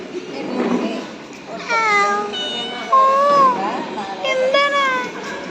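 A cat meows several times in short, rising and falling cries, fairly close, with soft background voices and household noise between the calls.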